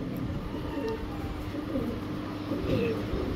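Cooing from a GNS pigeon, a male bird, with a female released nearby in a loft. The low, rumbling coos repeat over a steady background murmur, moderately close and without clear speech.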